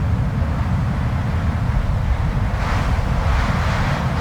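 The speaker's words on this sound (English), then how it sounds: "Mother Nature lets out one huge wind gust." A huge wind gust ahead of a thunderstorm roars steadily and loudly, a continuous broadband rush that swells slightly toward the end.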